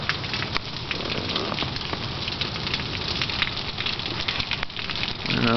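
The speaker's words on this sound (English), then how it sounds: "It's raining like crazy right now." Heavy rain pours down in Los Angeles in October 2009, a dense, continuous hiss and patter close to the microphone, steady throughout with no talking.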